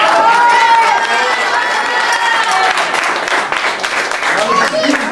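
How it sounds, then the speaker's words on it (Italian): Crowd applause and cheering with shouting voices and children at an outdoor rowing-ergometer event, a busy, continuous clatter of clapping mixed with talk. "Un applauso."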